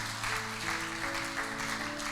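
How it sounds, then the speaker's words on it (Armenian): A church congregation applauds in worship, a dense steady patter of many hands clapping together, loud and sustained, with a low tonal hum beneath. "Аплодисменты нашему Богу."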